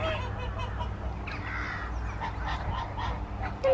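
Sebastopol geese, a newly arrived family of two adults and three young, give soft scattered honks and chattering calls near the listener, over a steady low background hum with no speech.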